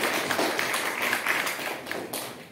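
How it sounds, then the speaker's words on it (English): An audience at an anthropology departmental seminar applauds: a steady patter of many hands clapping together, moderately loud and unbroken throughout, tapering a little at the end. "we have to give them a big round of applause for it"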